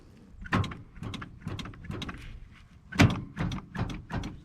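An old, gummy power door lock on a 1985 GMC square-body truck clunks repeatedly, about ten dull thumps in an uneven rhythm, close and moderately loud, one hit sharper than the rest.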